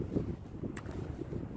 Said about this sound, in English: oh, it's getting windy, man.